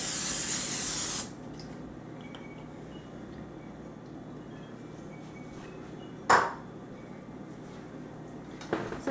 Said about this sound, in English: So you're going to spray the pan.